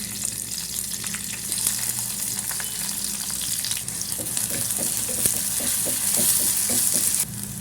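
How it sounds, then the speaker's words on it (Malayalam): Fenugreek, crushed ginger, garlic, green chili and onion fry in a pan with a loud, steady sizzle broken by rhythmic spoon stirring and scraping, close by and without talk. "ഒരു നുള്ള് ഉലുവ് ഇട്ട് കൊടുക്കാം കേട്ടോ ഇതിൻ്റെ ഒപ്പം തന്നെ ഇഞ്ചിയും വെളുത്തുള്ളിയും ചതച്ചതില്ലേ അതും പച്ചമുളകും ഈ സവാളയും ഒക്കെ ഇട്ട് കൊടുക്കാം"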